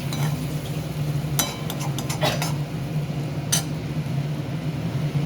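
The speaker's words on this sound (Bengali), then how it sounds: "একটু নাড়তে থাকতে হবে।" A spoon clinks and scrapes a few times against a pan as chicken curry with yogurt and cashew paste is stirred, sharp metallic taps over a low steady background hum.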